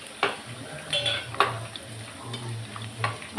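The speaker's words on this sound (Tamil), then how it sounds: "வத்தல் வறுத்துக்கலாம்." Sun-dried rice vathal frying in hot oil, a soft continuous sizzle with light clinks and scrapes of a utensil against the pan at irregular moments, close and fairly quiet, no talking.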